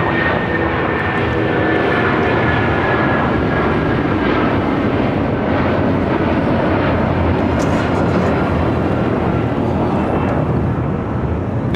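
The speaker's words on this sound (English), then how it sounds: "Now taking off is United Airlines 1488, taking off to Newark on a 757-200." A United Airlines Boeing 757-200 taking off from LAX bound for Newark, a loud sustained engine roar with a faint whine running through it, steady and close for the whole stretch.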